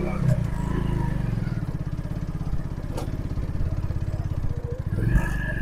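A motorcycle rides along hilly tea garden roads in Sylhet, its engine chugging in a steady pulsing rhythm close by, with rattling over the rough surface and a voice talking over it.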